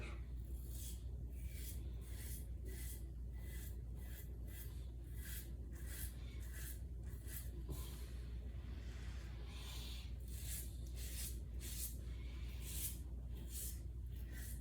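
A Viking Blade safety razor makes its first pass through lather: quick, rhythmic, raspy scraping strokes come in bursts close to the mic, with a short pause midway.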